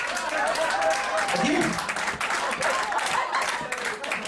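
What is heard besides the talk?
audience clapping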